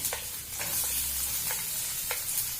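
Garlic and a small onion frying in a pan for genhari saag, a steady close sizzle with a few sharp stirring scrapes spaced through it, no voices.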